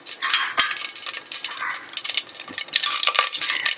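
Cumin seeds and a bay leaf crackling in hot oil in a pan, a steady run of close, bright sizzling with small sharp pops scattered throughout.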